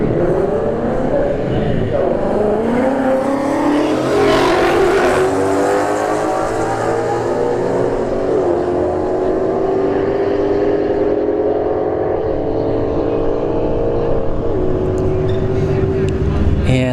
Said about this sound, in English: S197 Mustang right lane, Scat Pack Charger in the left